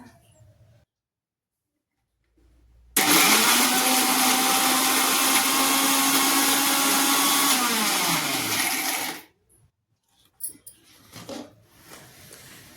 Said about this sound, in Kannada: ಇವಾಗ ಮಿಕ್ಸಿ ಜಾರಿಗೆ ಹಾಕೊಂಡು ಬರಮಂತ